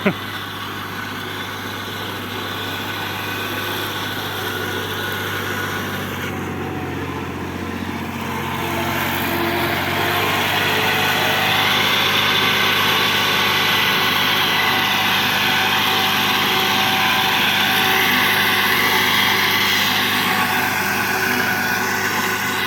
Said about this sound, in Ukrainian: Новенька косарка.